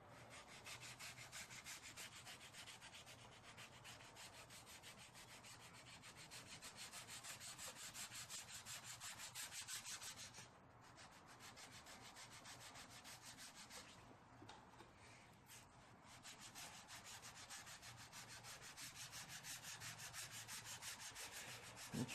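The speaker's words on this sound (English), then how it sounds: "let's just wet sand this down with the 400" Wet sanding of paint on a Toyota AE86 body panel with 400 grit sandpaper produces a rapid, steady back-and-forth rubbing rasp, close and continuous, with a couple of brief pauses between strokes.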